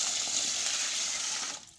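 Water gushes steadily while oyster mushroom material is washed, a short close hissing pour that cuts off abruptly at the end.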